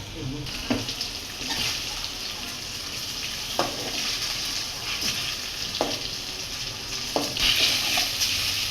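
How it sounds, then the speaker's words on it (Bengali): Fish frying in oil in a cooking pot on a stove, a steady close sizzle with a few brief clatters and stirring sounds, under occasional soft talk. "মাছগুলো ফেলে নিবে দিয়ে দিছে যে মাছটা ভালো করে ভেজে নিচ্ছে"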